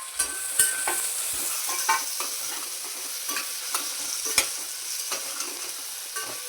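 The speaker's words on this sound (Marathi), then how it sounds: "आता इथे बारीक कांदा चिरला आहे, तो आता तेलामध्ये आपण टाकून घेऊ." Finely chopped onion sizzles in hot oil for pav bhaji, a continuous bright frying hiss with frequent sharp scraping taps from a stirring spoon against the pan, close and clear with no talking.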